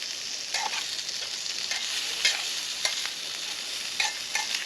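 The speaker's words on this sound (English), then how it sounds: "let's put all these peppers and onions and stuff in here" A pan of peppers and onions fries outdoors with a constant, close sizzling hiss, broken by scattered crisp pops and spits.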